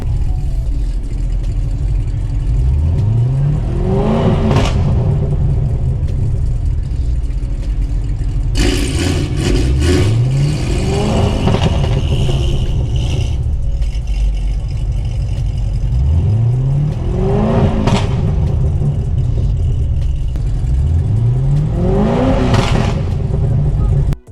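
A car engine revs four times at steady intervals, each rising and falling sweep swelling over a low idle rumble, loud and close, with people talking intermittently.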